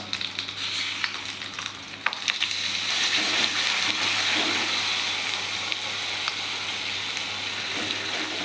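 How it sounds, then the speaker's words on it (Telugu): Tamarind chutney frying in a pan with garlic, a steady close sizzle and hiss with occasional scrapes of stirring, running continuously without speech. "ఇప్పుడు పచ్చడి ఇందులో వేసుకొని కలుపుకుందాం"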